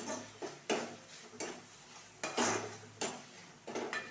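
Spoon scraping and clinking against a pan while onions are sautéed for a lunchbox mango rice dish, with several irregular stirring strokes over a faint sizzle, close and moderately quiet.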